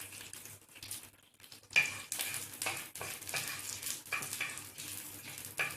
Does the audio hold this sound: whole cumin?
yes